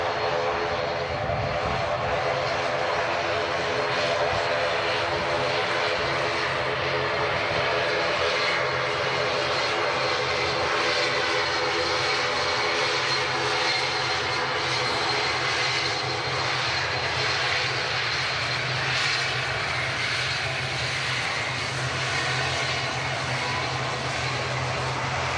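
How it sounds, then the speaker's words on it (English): An Aer Lingus ATR 72 turboprop bound for Dublin runs its engines close by, a loud sustained propeller drone with steady tonal hum that holds for the whole stretch. "Aer Lingus ATR 72 in the classic colours."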